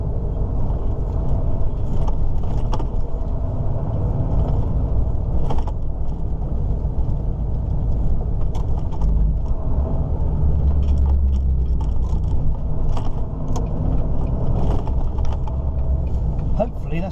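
A car drives through busy Liverpool city traffic on a match night, with a steady loud engine and road rumble throughout and a few brief mechanical clicks.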